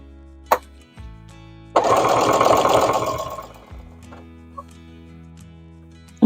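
A sewing machine stitches over quilt binding in one loud, fast burst of rapid needle chatter lasting about two seconds, framed by a few soft clicks and thumps, with no talking.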